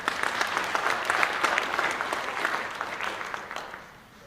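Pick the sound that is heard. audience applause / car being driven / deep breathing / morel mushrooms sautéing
audience applause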